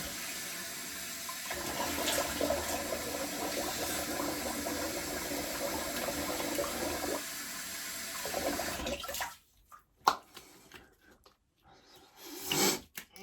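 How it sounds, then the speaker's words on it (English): Cold tap water runs steadily into a sink for rinsing the face after a shave, then stops, leaving a few splashes and short water sounds near the microphone. "Try and close the pores off a little bit with some cold water."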